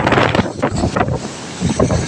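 Strong storm wind roaring over a motorbike rider's helmet on the road in rain, a loud, gusty buffeting rush that carries on with no pause.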